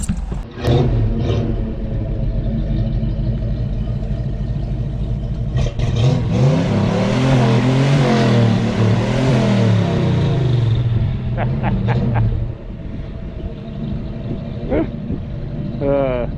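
A catless car engine fitted with two small mufflers idles, then revs up and down in a rising and falling rumble before settling back, loud and close, while people talk over it.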